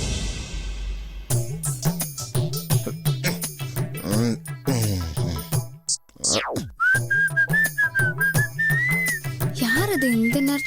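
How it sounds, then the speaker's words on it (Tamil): A person whistles a melody at night, clear sustained tones with brief pauses, interspersed with what sounds like speech and a sharp swooping whistle midway. "யார் அது இந்த நேரத்துல விசில் அடிக்கிறது?"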